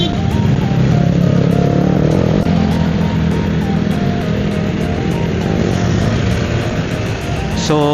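A Vespa GTS 300 Supersport scooter riding along a road, its engine drone steady and loud throughout with wind rush and no pauses.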